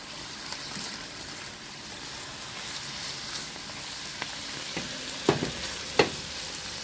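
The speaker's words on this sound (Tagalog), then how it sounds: "Igisa-igisa lang natin din." Pork adobo sautés in a pan, a steady close sizzle and crackle with a few louder stirring clinks near the end and no talking.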